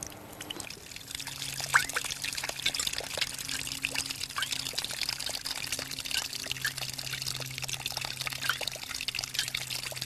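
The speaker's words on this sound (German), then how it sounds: "Meine Konservendosen Wasseruhr geht genau, ist umweltfreundlich und braucht keine Batterien. Ne? Nur tröpfchenweise Wasser." Water trickles and drips steadily through a homemade tin-can water clock, a quiet continuous patter that runs alone with no voices.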